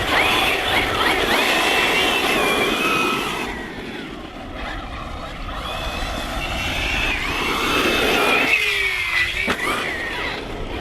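A HoBao Hyper SST RC car running on a 4S battery, its electric motor whining loud and close, the pitch swooping up and down as it accelerates and slows through a bend, with no talking.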